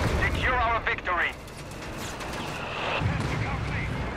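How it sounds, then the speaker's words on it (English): Mortar fire in Company of Heroes 3 rumbles as dull booms and crackling battle noise under a caster's fast commentary, with an explosion swelling toward the end. "Mortar doing some damage here."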